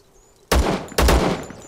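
Rifle gunfire in the video game Zero Sievert, two loud sharp bursts of rapid shots about half a second apart, ringing off between them, then a third shot starting at the very end, after near silence.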